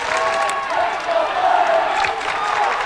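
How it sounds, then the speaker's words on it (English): Stoughton wrestling fans at a high school sectional meet fill a gym with a loud, continuous crowd roar of chanting and cheering voices, steady throughout with no single voice standing out. "We have the Stoughton crowd chanting "Let's go.""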